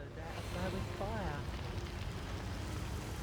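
Steady rain hiss in Divinity: Original Sin Enhanced Edition washing over everything, with a brief voice-like warble near the start, then an even, unbroken patter.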